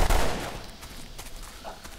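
Rapid bursts of automatic gunfire rattle in the video game Delta Force: Xtreme 2, a loud opening burst followed by fainter scattered shots.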